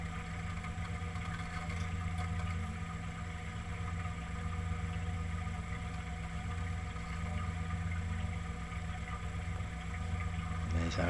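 A boat engine rumbles steadily at low revs while reversing into a mooring, running continuously and fairly close throughout, with a constant mechanical hum and vibration.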